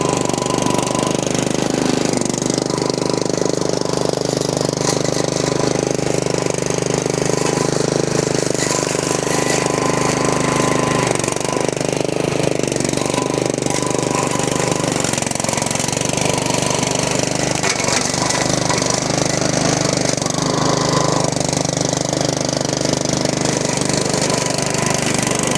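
A small engine on an RC lawn mower runs continuously while driving over grass and sticks outdoors, a loud steady rattling drone with slight knocking and brief load changes, no talk.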